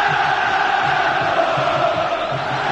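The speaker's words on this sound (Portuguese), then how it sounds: "Solta a voz a torcida do Santos." Santos football supporters roar and chant together in a packed stadium during the 2007 Paulista final against São Caetano, a steady dense crowd din with rhythmic pulsing voices throughout.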